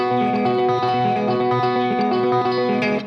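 A chord arpeggio on an effects-laden electric guitar runs at a quicker tempo, notes plucked in a steady repeating cycle and sustaining into one another, loud and close, with no voice present.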